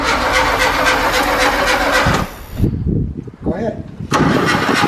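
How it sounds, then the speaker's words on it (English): A 1985 VW Scirocco Mk2 engine cranks over loudly and steadily for about two seconds, then cuts off, leaving a short stretch of speech and movement before a burst of loud broadband noise returns near the end. "Okay, just crank it over."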